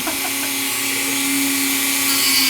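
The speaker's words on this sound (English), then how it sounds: "Using a Dremel sanding attachment, we tightened up to our original draw lines." A high-pitched Dremel rotary tool with a sanding attachment whines steadily, sanding wood up close, loud and continuous with a slight rise in pitch toward the end.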